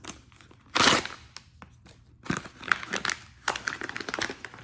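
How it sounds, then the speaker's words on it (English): Thick natural paper of a Popmart Hirono blind bag crinkles and tears open, a loud burst of crumpling followed by repeated close rustles and crackles as the packaging is handled. "Hirono always comes in this very like natural feeling thick paper, really cute, and it's gonna have a very different feel and sound than the other bags."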